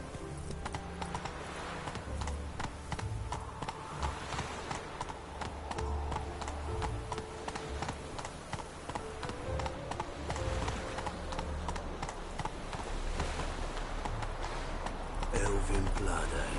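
The horse Roach gallops in The Witcher game, a fast continuous clip-clop of hooves with rhythmic drumming beats under game ambience, steady throughout and intensifying near the end.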